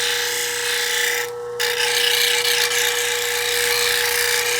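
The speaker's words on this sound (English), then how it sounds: "This wheel's really starting to get worn out" A worn 1200 grit wheel grinds green opal stone, a close, continuous raspy whir with a steady motor hum, briefly easing off before the grinding resumes at full strength.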